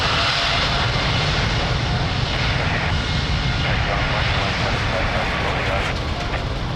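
An airplane taking off at Lisbon Airport, its engines producing a loud, steady, close roar that fills the whole stretch without letting up.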